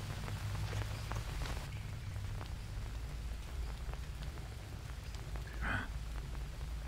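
Steady rain patters over a jungle scene in the survival game Green Hell, a dense continuous hiss of drops on surfaces with a few faint thumps mixed in, no talking.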